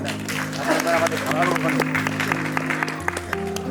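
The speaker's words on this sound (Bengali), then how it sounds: "আপনারা দয়া করে একটু করতালি দিয়ে তাকে স্বাগত জানাবেন" Applause from an audience, a steady wash of clapping that holds throughout, with a voice speaking faintly over it and a low hum underneath.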